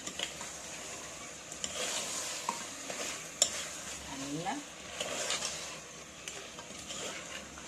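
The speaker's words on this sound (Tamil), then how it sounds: "இந்த மசாலையை எனக்கு கொஞ்சம் மட்டனோட இது இதாக இருந்தால் மிக்ஸ் பண்ணால் நல்லா வாசனை வரும்" Ground masala being stirred with mutton in a hot pan for mutton kulambu, a soft continuous scraping and sizzle with occasional spoon knocks, fairly quiet and steady throughout.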